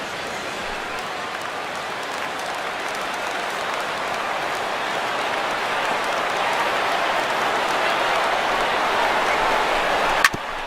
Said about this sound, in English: he'll get himself a nice little ovation for the work he's turned in on the mound so far